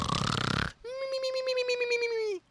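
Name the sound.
person imitating snoring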